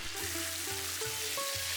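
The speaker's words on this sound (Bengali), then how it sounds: "এবার মাছগুলোর এক পাশ ভাজা হয়ে গেলে আমি অপর পাশটাও ভালোভাবে ভেজে নিচ্ছি" Pieces of katla fish fry in hot oil, a steady bright sizzle with faint crackle, while a low repeating electrical hum and tonal whine run underneath.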